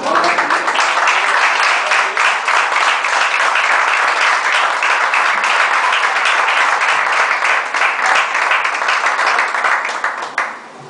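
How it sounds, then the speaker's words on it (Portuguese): A church congregation at a New Year's Eve service breaks into steady, dense applause, a sustained wash of many hands clapping that holds loud for about ten seconds before tapering off at the end. "Você pode aplaudir ao Senhor."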